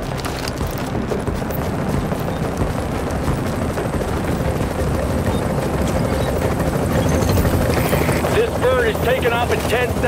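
A video-game helicopter's rotors thump steadily and loudly throughout, a continuous beating drone with faint voices briefly audible near the end.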